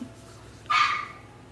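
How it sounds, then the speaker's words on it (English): A single sharp dog bark rings out close by, brief and loud against a quiet indoor background. "So if you hear barking, that's why."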